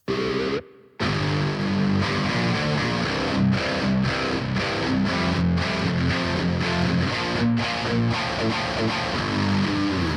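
Heavy, crunchy distorted seven-string guitar riffing, low and chugging with rhythmic palm-muted stops, loud and continuous after a brief pause near the start.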